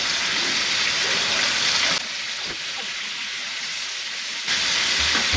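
Chicken pieces for Filipino adobo frying in oil, a loud, steady hiss of sizzling that dips briefly in the middle and then swells again, with no talking.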